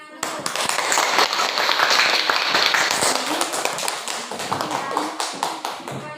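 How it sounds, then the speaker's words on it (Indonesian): Schoolchildren applauding in an Indonesian classroom after a group presentation: lively, close clapping with sharp, irregular hand claps that build quickly, hold, then thin out, with some voices mixed in. "Tepuk tangan dulu."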